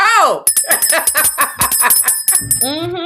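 A bell rings briefly at the start, marking a talk segment about therapy, then people keep talking loudly over it, with a bright ringing tone running through the speech.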